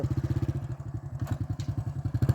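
A motorcycle engine chugs at low speed in a steady rhythmic putter during a riding lesson, close and loud, with faint clatter and no speech over it.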